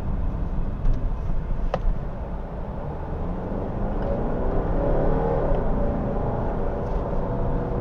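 Volvo XC60 D5 diesel SUV accelerating, a steady moderately loud engine drone with revs climbing smoothly, heard from inside the car.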